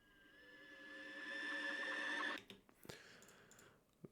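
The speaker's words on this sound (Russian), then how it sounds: "райзер перед дропом" An unprocessed riser effect placed before the drop in a TRIPLESIXDELETE-style beat climbs steadily in a rising, airy sweep for over two seconds, then cuts off into scattered quieter clicks and hits.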